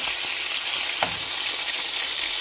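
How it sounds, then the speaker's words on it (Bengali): Hilsa fish fries in hot oil, a loud, dense, steady sizzle with a brief scrape of stirring near the middle, close up and without talk. "কি পরিমাণ তেল উঠেছে ভাজতে গিয়ে"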